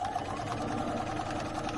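A sewing machine runs steadily, stitching down the center of a quilt's back side, its even motor whir and rapid needle chatter continuing alone and close up without a break.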